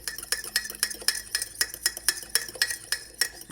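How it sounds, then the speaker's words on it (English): Butter and egg yolk being stirred together in a mug for a chocolate chip mug cake, a utensil scraping and clinking against the sides in a quick regular rhythm of about four strokes a second, close and alone. "And we're going to stir that until it's combined."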